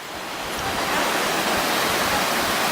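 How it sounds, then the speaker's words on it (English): A waterfall roars steadily nearby, a broad, constant wash of rushing water that swells slightly at the start and then holds even, with no voices. "Found this waterfall."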